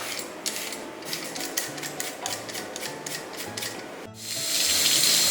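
Green peppers and pork are rinsed under a running kitchen tap, with repeated rubbing and splashing strokes in a sink, then the water runs at full flow at the end. No one talks.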